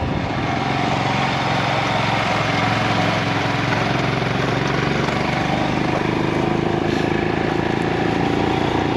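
A motorcycle cruising on a smooth blacktop road in Ladakh on a cold morning, its engine droning steadily and loudly with wind rush throughout, close and unbroken, with no talking.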